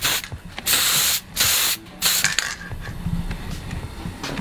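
A heated spray paint can hisses in several loud bursts with short gaps between them, then gives off rattling and clicking handling noises, outdoors in cold winter weather, with no talking.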